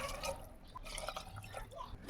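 Water poured into a pot of thukpa with potatoes, spices and chopped tomatoes, a close, steady trickling and dripping running through the whole stretch, faint voices murmuring underneath.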